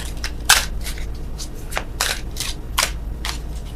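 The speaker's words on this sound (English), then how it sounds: "Oh, worst shuffling in the world." Tarot cards being shuffled by hand, a series of quick riffling bursts and brisk flutters repeating at irregular intervals over a low steady hum, close and fairly loud with no voices.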